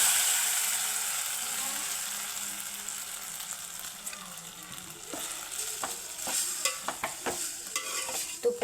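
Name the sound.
sago pearls (sabudana) frying in ghee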